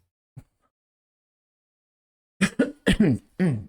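A single faint cough, a long silence, then a close, rapid run of four or five harsh, throaty coughs.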